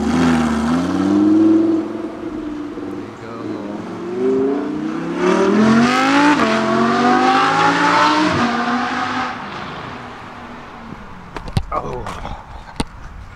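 An Audi R8 supercar's engine revs up and down in rising, falling sweeps, loud and close, followed by a few sharp pops near the end, with people talking over it.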